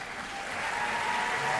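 Applause from an audience at an employee service day event honoring five-year staff, a dense steady clapping that builds slightly in loudness, with no talking.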